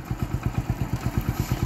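A motorcycle engine revs gently as the bike pulls away with the clutch partly released, thumping in an even, rapid rhythm at a fairly low volume.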